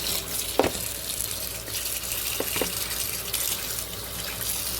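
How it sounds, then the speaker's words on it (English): Pickles are rinsed under a running kitchen tap, a steady broad rush of water into a sink with a few brief knocks as they are moved around, moderately close and without speech. "I just rinse them really, really good"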